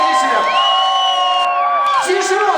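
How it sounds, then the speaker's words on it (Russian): At the Mister INZHEK 2012 contest finale, a crowd cheers the contestants with loud, sustained whoops and shouts close by. "Поаплодируем всем участникам бурными овациями и всем победителям."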